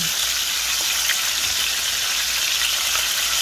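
Chicken thighs fry in a pan for a lemon rosemary crispy chicken dish, giving a steady, dense sizzle with soft crackles throughout, close and alone with no talk.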